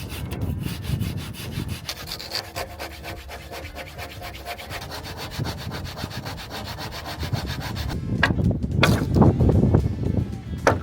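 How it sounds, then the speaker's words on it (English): A hand saw cuts through a laminated wooden gaff for a sailboat gaff rig, with steady rhythmic rasping strokes close by that grow louder and rougher toward the end. "So I'm just going to go in between with the hand saw"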